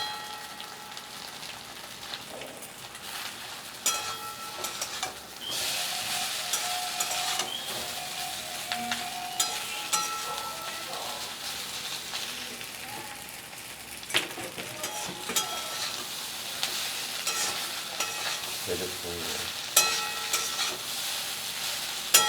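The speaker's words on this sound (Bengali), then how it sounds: "এখানে আমি পাস্তা সিদ্ধ করে রেখেছিলাম, এই পাস্তাটা দিয়ে দিলাম।" Boiled pasta is stirred in a hot frying pan, giving a continuous soft sizzle broken by scattered scraping clicks and knocks of the utensil, with no talking.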